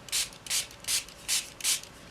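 A spray bottle mists watercolor paper in five evenly spaced, short hissing bursts, crisp and close against a quiet room, with no talking.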